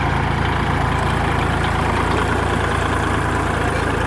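A farm tractor engine idling and running steadily at a rice-planting event in Phichit province, Thailand, a loud, continuous, unvarying rumble up close with no voices over it.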